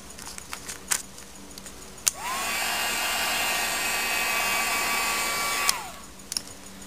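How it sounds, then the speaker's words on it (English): Heat gun drying paint on a collaged tag, switched on after a few light handling clicks, giving a steady whirring blower roar with a motor whine for about three and a half seconds before cutting off, followed by small taps. "Another bit of heat gun"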